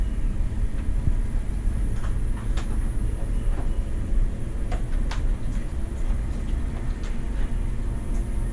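A Lyson honey extractor running and ramping up, a steady dense mechanical rumble with a continuous whir and occasional faint clicks, moderately loud and without speech.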